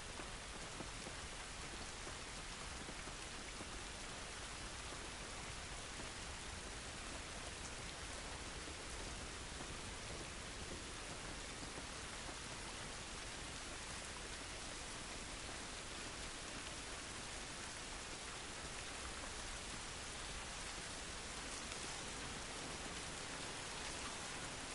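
Steady, dense rainfall pours outdoors in the video game The Last of Us Part 1, a constant hiss of drops on surfaces with no pauses, filling the whole scene.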